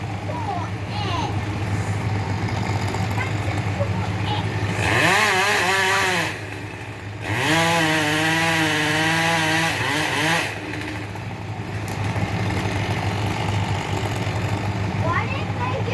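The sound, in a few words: chainsaw cutting tree by tree loppers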